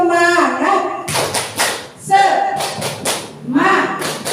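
A standing group of teachers doing a rhythmic spirit-clap chant, loud sharp claps in quick bursts mixed with shouted voices, close and energetic.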